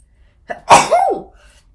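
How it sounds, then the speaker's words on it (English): A single loud, close sneeze: a brief sharp intake followed by an explosive burst that trails off, with silence around it. "hold on, I have to sneeze."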